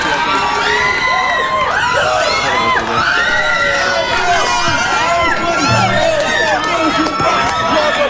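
A crowd screams, whoops and cheers outdoors as a band takes the stage at a Toronto rock concert, a loud, dense roar of many voices that stays strong throughout.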